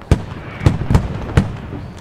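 Mortar rounds go off in the military shooter game Squad, four sharp booming impacts in quick irregular succession, loud and close with short decaying tails.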